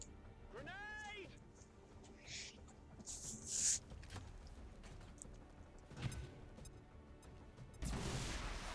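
A grenade explodes in the video game XCOM 2, a sharp crash and boom among scattered game effects, with a burst of heavy noise near the end and talk over parts of it.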